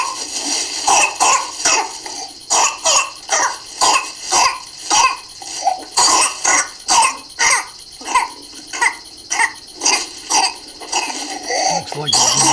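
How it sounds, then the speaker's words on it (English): A child coughs in repeated harsh bursts, a dozen or so in steady rhythm, with strained breathing between them, close and loud. "Cough, cough, cough, cough, and then gasping for air."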